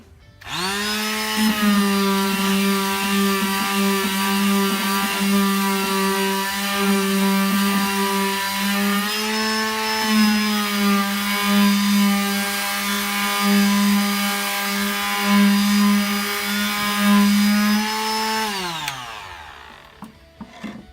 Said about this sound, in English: We're going to do a light sanding with the grain and the edges.